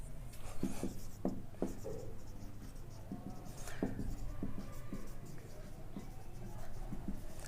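Chalk writing an equation on a board taps and scratches in quick irregular strokes through a faint background hum, with no voices present.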